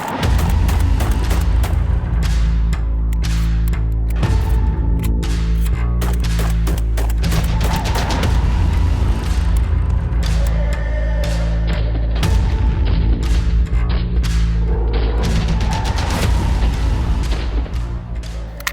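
Rapid strings of loud gunshots fired nearly back to back, rounds from a handgun carrying a Rovyvon GL4 Pro weapon light, booming close and dense for most of the stretch before easing off at the end.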